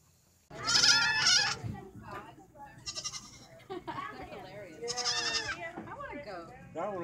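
Loud, harmonic goat bleats, several in a row, up close, with people talking between and over them.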